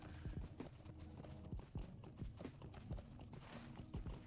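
A horse's hooves clip-clop in a steady walking rhythm in the online game The Lord of the Rings Online, the repeated thuds fairly faint over a soft background hum, with no talk.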